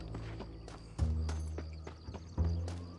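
In the Red Dead Redemption video game, a horse's hooves clip-clop in a slow, uneven rhythm. A couple of heavier thuds stand out, and the sound stays fairly quiet and close.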